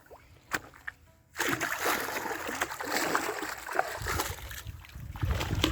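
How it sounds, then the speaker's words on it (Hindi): Irrigation water flows through an open field channel in a Punjab village in Pakistan, a steady rushing, splashing wash that starts abruptly after a quiet moment and continues loud to the end. "आगे जो है पानी का बहाव शुरू हो जाए"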